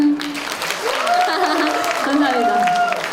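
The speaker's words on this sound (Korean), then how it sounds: "박수." A live audience at a televised Korean music program applauds with dense, steady clapping and cheers while a voice rises over it.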